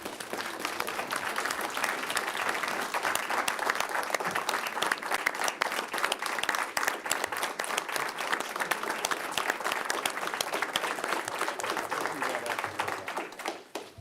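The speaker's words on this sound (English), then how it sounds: "So I'm just going to stand up and give my people and everybody else you're honoring a little round of applause," Round of applause at a county board meeting, sustained, fairly loud clapping from the room lasting the whole stretch, with a few voices mixed in beneath it.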